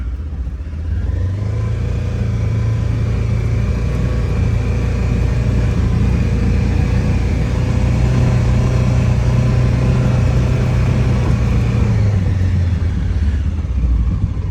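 A Polaris Ranger 900 UTV fitted with a brand-new transmission drives on a test ride, its engine a loud, steady low drone with a slight rise and fall in revs, heard up close.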